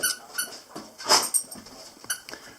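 A dog whines and squeaks in short, high-pitched bursts nearby, wanting to go outside, a few plaintive whimpers spaced out over a couple of seconds.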